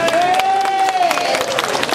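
Audience applause and crowd noise at a live rock band event, a dense wash of clapping under a sustained held tone from the stage.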